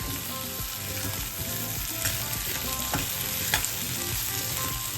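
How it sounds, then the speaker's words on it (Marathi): Potatoes and peas fry in a small kadai, a steady dense sizzle running the whole time with a few sharper crackles and occasional stirring scrapes, close and fairly loud, with no voices. "बटाटे टाकले, आता वाटाणे पण टाकते।"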